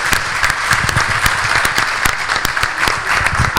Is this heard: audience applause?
yes